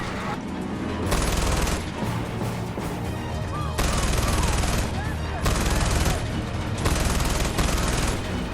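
Continuous loud automatic gunfire from a gun in Far Cry 4, dense overlapping shots and impacts in several long bursts, with brief lulls between them.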